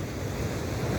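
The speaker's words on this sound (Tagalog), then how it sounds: "Yan, tabing dagat dito sa Tanpail," Sea waves at the shore of Barangay Tanpail, Tigbauan, Iloilo, near a community fish landing center, make a loud, steady wash mixed with wind rumble on the microphone, with no voices.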